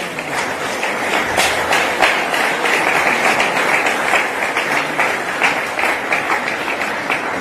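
Church congregation at a Sunday revival service in Locodjro applauding, a loud, sustained wash of many hands clapping together without a break.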